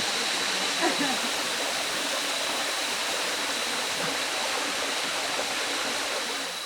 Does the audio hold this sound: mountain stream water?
yes